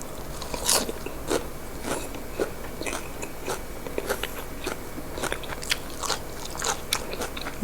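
Close, crisp crunching bites repeat at an irregular pace, sharp crackly snaps of someone chewing crunchy grilled pork rib cartilage, with no talking.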